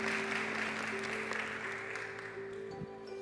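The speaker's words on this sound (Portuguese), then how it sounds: "Salva de palmas novamente para o Guilherme." Audience applause at a corporate event on racial equity, a steady wash of clapping from a large room that fades slightly toward the end.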